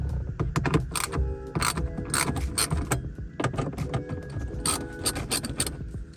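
Metallic clicking and ratcheting of a socket wrench loosening 10mm bolts from a head unit mount in a 2016-2023 Toyota Tacoma dash, with dense rapid clicks and scrapes running close and steady throughout.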